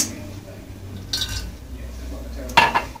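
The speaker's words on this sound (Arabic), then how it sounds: "غادي نجيب الكوكوس، غادي ندير الزيت" A cocotte pot is set down and oil poured in for Moroccan harira, with a couple of sharp metallic clinks and clatters close by over quiet kitchen background.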